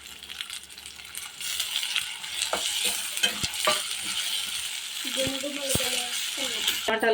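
Ginger garlic paste frying with tomatoes in a pan for gongura mutton curry, stirred with scraping, clinking utensil strokes over a steady close sizzle, with faint voices in the background.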